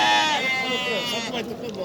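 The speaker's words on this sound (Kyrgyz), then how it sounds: "Козу кочкорлор экен." Lambs and young rams bleating at the Uchkun livestock market in Osh, a close, wavering, drawn-out bleat with other market sounds and talking around it.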